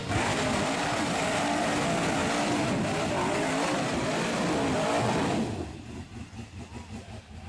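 An old-school 4x4 buggy on 44-inch Interco TSL tires revs loud and steady as it attacks a steep hill climb, its engine roaring continuously before dropping off abruptly into lower, pulsing idle.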